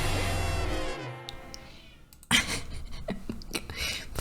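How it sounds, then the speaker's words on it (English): A cat yowling in the distance, a drawn-out caterwauling cry that starts loud and harmonic then fades, followed by a burst of busier, noisier sound. "Probably cat yelling in the distance."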